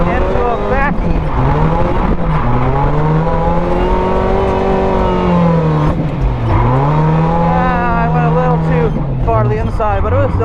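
Toyota AE86 drifting at night on a road course, its engine roaring loud and steady at high revs with pitch sweeps as it shifts and slides, and tire squeal mixed in.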